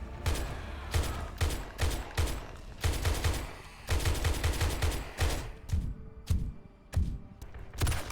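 Heavy gunfire fills a 7 Days to Die horde night, with rapid bursts of shots and repeated volleys close and loud, separated by brief pauses, with no speech.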